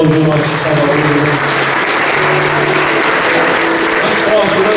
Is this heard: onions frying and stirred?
no